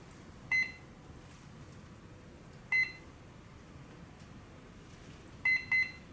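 Electronic speed controller on an RC warbird plane beeps during throttle calibration: four short, bright, tonal beeps in uneven bursts, two of them close together at the end, over a quiet hiss.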